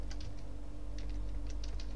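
Python code is typed on a computer keyboard in quick clusters of light key clicks, close and clear, with pauses between bursts over a steady background hum.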